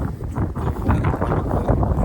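Loud, rumbling cold wind buffeting the microphone continuously in a garden, a thick low roar with no pauses.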